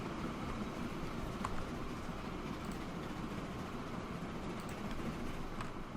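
Trains run in the railway simulation game Transport Fever 2, a steady low rumble of rolling stock with faint clicking, heard at a moderate distance and unbroken by talk.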